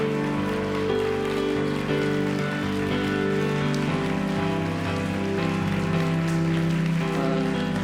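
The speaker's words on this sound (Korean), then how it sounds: "우리 큰 박수로 기대하도록 하겠습니다" A church congregation gives steady, dense applause for a newly confirmed member, continuous clapping that sounds like rain and holds over sustained instrumental music.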